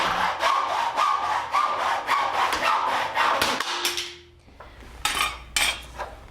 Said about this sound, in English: Use a hacksaw to make your cut.